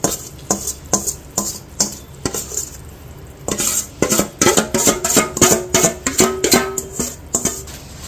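Gram flour is stirred into hot sugar syrup for Mysore pak, with a spoon scraping and clinking against the pan in a quickening series of close strokes and a faint sizzle underneath.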